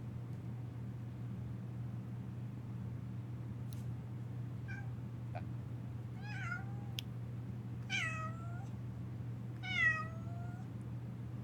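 A person imitates a cat with several rising, nasal meows spaced out over quiet background hum, growing slightly louder toward the end, with no other talk.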